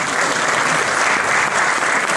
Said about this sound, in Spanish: Un aplauso para Julián, que ya hizo la presentación